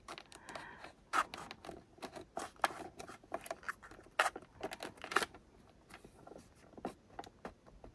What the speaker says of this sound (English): So, I'm going to cut it right about there.